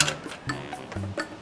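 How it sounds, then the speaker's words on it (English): Ratchet turning a bolt while installing Bilstein 5100 shocks on a 2017 Ram 1500 2WD, with a few quiet, irregular clicking strokes close by. "Trying to loosen up a bolt you're trying to tighten."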